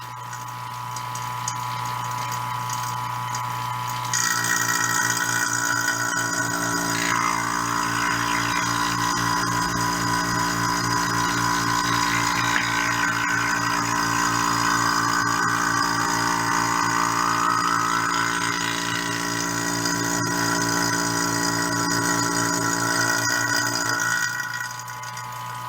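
A vacuum pump runs steadily for epoxy stabilizing of wood in a woodturning shop, giving a continuous motor drone with a rhythmic pulsing and a bubbling, hissing layer above it, close and loud throughout.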